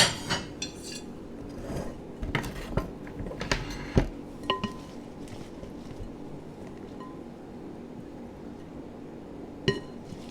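Plates and dishes clink and knock as a plate is picked up while making a black bean taco salad, a handful of sharp, close clatters in the first half, then quieter with one last clink near the end.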